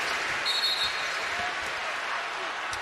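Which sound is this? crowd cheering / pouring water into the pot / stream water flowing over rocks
crowd cheering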